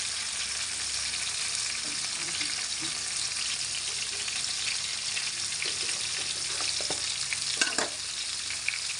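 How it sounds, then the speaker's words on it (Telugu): Boiled chicken frying among browned onions in a pan, a loud continuous sizzle with occasional utensil scrapes and clicks of stirring toward the end. "అలాగే వేగిపోయిన ఉల్లిపాయలలో మనం ఉడకబెట్టుకున్న చికెన్ కూడా వేద్దామండి."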